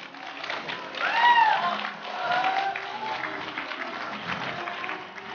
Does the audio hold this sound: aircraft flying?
no